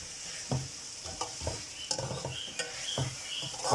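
Mixed vegetables and capsicum stir-fried for vegetable biryani, with a soft continuous sizzle under repeated stirring clatters of a spoon against the pot, close and steady with no talk.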